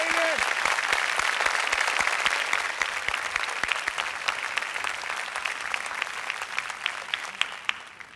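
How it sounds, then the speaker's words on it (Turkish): A studio audience at a Turkish folk-song TV competition claps in a sustained burst that slowly thins out, with a host's voice talking over it. "Elif Kayacan'ı alkışlıyoruz."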